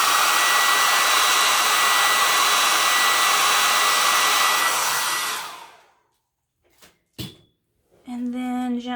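Hair dryer blowing on small pressed yellow flowers, a loud steady close whoosh that cuts off after about five seconds, followed by a few soft knocks and then a voice speaking.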